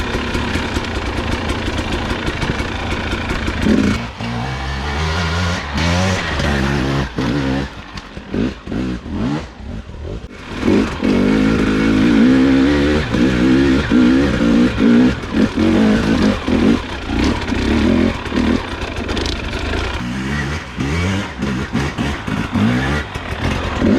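A 2021 Husqvarna TX300i two-stroke motorcycle engine while riding, loud and close, revving up and down continuously with brief throttle dips, a rough buzzing drone throughout.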